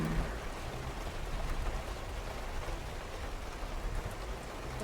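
Steady rainfall in the Road 96 fan-project video game, a dense, even patter of drops on surfaces throughout, with no voices.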